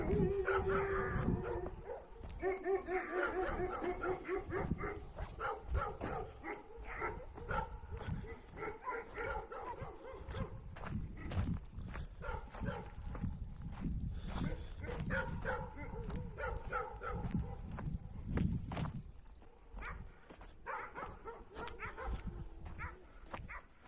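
Dogs bark uneasily at night at a highland pasture, with repeated barks, yips and whimpers for over twenty seconds while someone talks over them.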